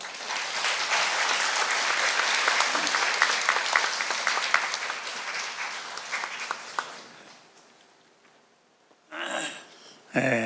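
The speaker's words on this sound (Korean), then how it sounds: "우리 하나님께 영광의 박수를 올려드리시겠습니다" Applause at a church book launch ceremony, loud and even at first, then thinning into scattered claps and fading out, with brief sounds near the end.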